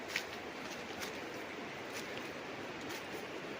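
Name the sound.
babbling river water flowing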